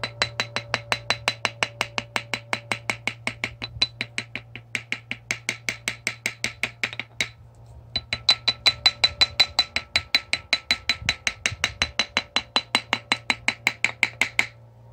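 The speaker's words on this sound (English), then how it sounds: "I'm just gonna tap around on this sharp cast iron edge, and that will cut through the masking tape." A tool tapping around a sharp cast iron edge of a rebuilt BMW Airhead starter to cut masking tape, heard as a long series of evenly spaced crisp taps with one short pause, close and moderately loud over a low hum.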